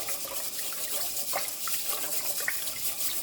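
Rice is rinsed under running tap water in a sink, giving a steady hiss of flowing water with light splashes and sloshing, moderately close and without speech.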